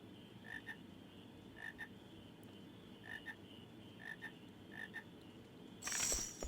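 Frogs croak in the video game Final Fantasy IX: about five short paired croaks at a steady, spaced rhythm over a low ambient hum, then a brighter burst of game sound at the end.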